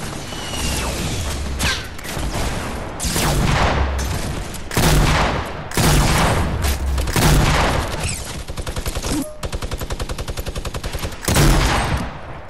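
Shooter video game gunfire: repeated bursts and single shots from several guns, including a rapid machine-gun rattle, crack loudly in close succession with short pauses between volleys.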